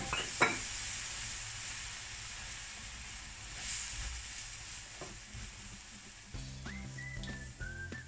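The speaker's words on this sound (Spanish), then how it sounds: "le vamos a ir añadiendo la leche poco a poco y sin parar de remover" Flour cooking in a pan as milk is stirred in for a béchamel sauce for meat lasagna: soft, steady sizzling and hissing with occasional scrapes and clinks of the spoon, close and quiet.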